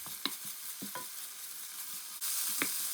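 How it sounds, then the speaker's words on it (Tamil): Chopped ginger, onion and curry leaves sauté in a pan while a spoon stirs them, giving a steady soft sizzle with occasional scraping clicks and a louder burst of frying near the end, close by and without talk. "கொஞ்சம் வெங்காயம் நல்லா சின்ன வெட்டி அதையும் இதோட சேர்த்து வதக்கும்"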